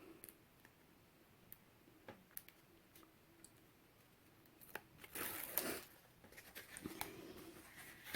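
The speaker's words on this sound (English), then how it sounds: "I'm gonna peel the tape" Tape peels away from paper while a mini folio journal is being made: a short, faint ripping rasp in a quiet room, then a softer scrape shortly after, among a few scattered light ticks.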